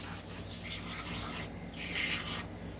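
Foam wash sprayed onto pistol parts, two short hissing aerosol bursts close by against a low background hum, without talk.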